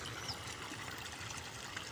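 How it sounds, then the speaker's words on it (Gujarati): Irrigation water flows across a cauliflower field in a village, a faint, steady trickling wash running continuously throughout with no voices. "અત્યારે હેલું જાય છે પાણી"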